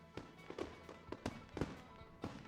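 Fireworks at a minor league baseball stadium burst in a quick irregular series of sharp cracks and pops, several close together, fairly faint and heard without talk over them.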